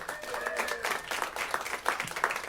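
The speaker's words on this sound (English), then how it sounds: "Give Dave a round of applause" A comedy club audience claps for comedian Dave Anthony, a steady wash of applause with scattered individual claps, moderately loud and continuous throughout.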